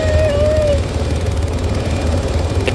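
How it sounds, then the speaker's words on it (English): Helicopter in the ARMA 3 video game, a steady loud rotor and engine drone with heavy low thumping that runs through the whole stretch, plus a brief tonal whine early on and a short sharp click near the end. "Don't go inside the chopper."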